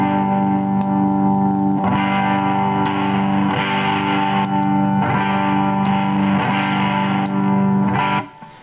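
A heavily distorted electric guitar through a valve distortion pedal at full gain chugs loud and saturated, sustained chords with a thick buzzing edge, cutting off abruptly near the end.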